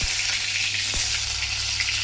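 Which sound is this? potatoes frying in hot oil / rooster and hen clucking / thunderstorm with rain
potatoes frying in hot oil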